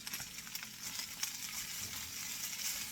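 Casserole stirred in a hot pan, with a soft steady sizzle and faint scraping from the spoon moving through the food, close and fairly quiet.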